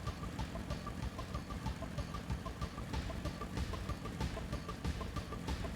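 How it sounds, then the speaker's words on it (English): A motorcycle engine in Final Fantasy XIV idles with a steady, even mid-pitched chug, held at moderate level throughout with a faint tonal game score underneath. "I've got a motorcycle."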